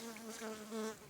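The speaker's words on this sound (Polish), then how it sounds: "Jeszcze ich pszczoła lata." A bee buzzes steadily nearby for about a second, beside a roadside ditch, a droning hum that swells slightly louder toward the end, with no voices.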